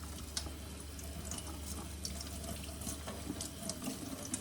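Tap water runs steadily to wet a reborn doll's long hair, a quiet continuous splashing stream with small drips and clicks, with no voices.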